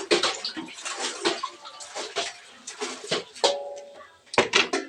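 Water pouring from a tap, a broadband splashing rush that swells and breaks in uneven bursts, close and fairly loud, with brief gaps and faint voice traces mixed in.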